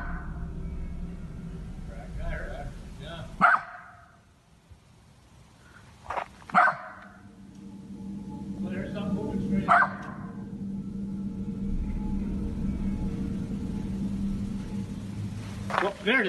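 A dog barks outdoors in snow, three or four separate barks spaced seconds apart and fairly distant, over a low rumbling background and occasional voices.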